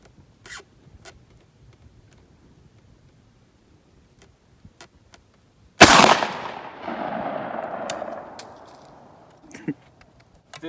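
A 12 gauge shotgun fires a Fury slug at an outdoor range: one sharp, loud blast with a ringing decay that trails off over a couple of seconds, set among quiet clicks and handling noises.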